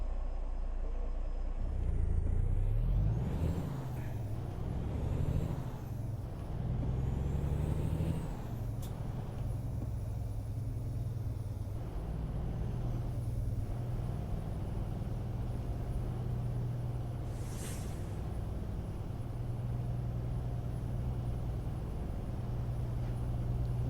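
An old Kenworth truck in American Truck Simulator drives with a deep, continuous engine rumble that rises as it pulls away, with a sharp air brake hiss early on and a steady drone throughout.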